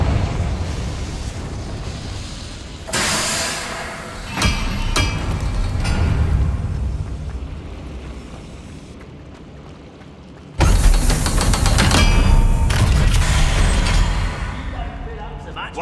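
Explosive blasts from the Confringo fire spell in Hogwarts Legacy erupt in loud bursts, with combat rumble and a sustained crashing roar, while a voice calls out over the noise.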